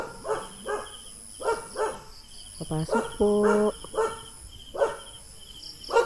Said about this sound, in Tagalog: may aso guys, oh. May isang aso